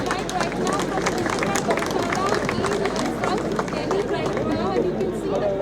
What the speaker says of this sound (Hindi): एक बार जोरदार ताली बजाकर अध्यक्ष जी का स्वागत करेंगे।